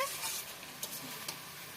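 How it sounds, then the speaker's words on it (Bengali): Bitter gourd and potato cook with shrimp in a pan over a clay stove, a soft steady sizzle broken by two brief stirring scrapes, faint and without speech. "তিতা করাল আলু রান্না করছি চিংড়ি দিয়ে"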